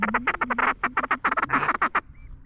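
Ducks quack in a rapid, loud series of nasal calls close by during a mallard and pintail duck hunt, with a few overlapping calls near the end before it falls quiet.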